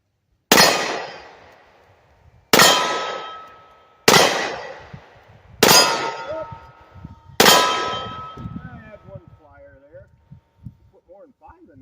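Five loud, sharp shots from a Ronin 1911 10mm pistol, spaced about two seconds apart, each with a ringing metallic tail, followed by quieter handling noise at an outdoor range.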